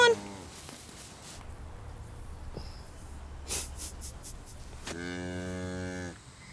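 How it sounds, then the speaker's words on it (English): A mini Highland cow lets out a loud, drawn-out moo near the end, harmonic and close, after a quieter stretch of snorting and breathing with a brief voice earlier. "The mini Highland cow!"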